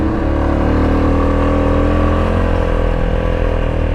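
A vehicle engine labours in third gear up a steep mountain road, a loud, steady, close drone with a constant low rumble and no breaks.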